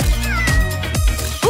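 A cat meows several times in quick succession, close and loud, with rising and falling cries spaced through the short stretch.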